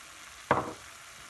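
Sweet corn and red kidney beans drop into a pan of cooking minced beef stew, giving one short, close splat and sizzle that fades quickly over a faint background hiss.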